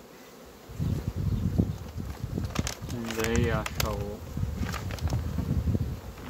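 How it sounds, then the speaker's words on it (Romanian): Bees buzz steadily around a beehive being checked after a month of cold, a close insect drone under a man's speech with some handling noise and crackle. "Albina este în partea aceasta"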